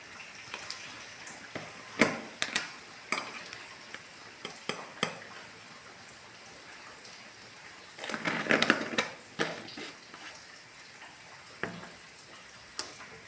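Coriander powder, chilli powder and garam masala dry-roasting in a pan for a beef curry, with scattered ticks, spoon scrapes and a brief louder stirring burst, close up with no talk.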